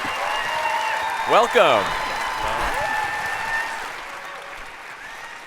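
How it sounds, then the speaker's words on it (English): Audience applause welcomes a guest, a continuous wash of clapping at moderate level with a speaker's voice heard over it. "Based on the applause you got in the beginning"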